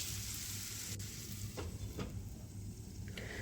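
Sliced mushrooms fry in butter and garlic in a pan, a steady close sizzle with occasional scraping stirs running through the whole stretch.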